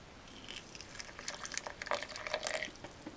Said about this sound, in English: Add a touch of cold water